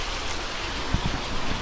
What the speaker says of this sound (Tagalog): Wala lang katigil-tigil yung ulan.